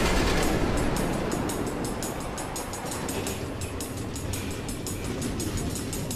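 A train runs along automated tracks through the Nether in Minecraft: Story Mode, with a steady rolling rumble and a fast, even clickety-clack that carries loudly through the whole stretch, with no voices.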